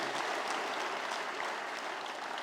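A congregation at a Sunday church celebration claps, the dense, even patter of many hands filling the room at a moderate level for a couple of seconds.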